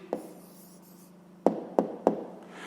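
A pen or chalk writes down the answer to a fifth-grade math problem, a short scratch followed by three sharp taps in quick succession, close and fairly quiet.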